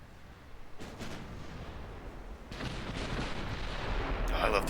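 Heavy 14-inch battleship guns boom in a naval battle from the strategy game Ultimate Admiral Dreadnoughts, with a broad blast about a second in, a louder one near two and a half seconds, and a sharper crack at the end over a constant rumble.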